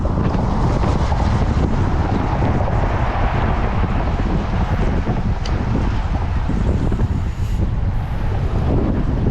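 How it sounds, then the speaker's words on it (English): Strong wind roars and buffets steadily across the microphone during a bike ride, a loud, continuous rumbling gust with no voices. "Listen to the wind."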